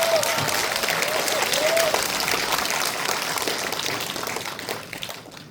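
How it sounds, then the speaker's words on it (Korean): A seated audience at a documentary film screening gives the director a welcoming round of applause, strong sustained clapping with a brief whistle that tapers off near the end. "큰 박수로 맞이해 주시기 바랍니다"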